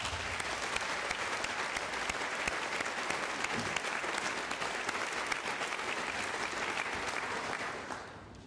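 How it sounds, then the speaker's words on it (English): An audience at a university Christmas carol event in Adelaide applauds steadily, a dense, even wash of clapping that holds for several seconds before starting to thin at the very end. "A round of applause, please"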